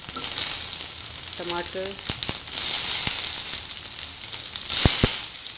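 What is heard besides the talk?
mustard seeds, onion, tomato and green chili sautéing in pan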